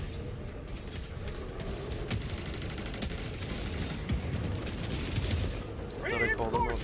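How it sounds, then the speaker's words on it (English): Grenade blasts and heavy gunfire from the video game Helldivers 2 on its hardest difficulty, a dense continuous barrage of booms and shots with a brief burst of game chatter near the end. "grenade!"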